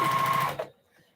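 A sewing machine stitching a quilt, a brief rapid whirring run of stitches with a steady motor tone that stops abruptly, followed by near silence.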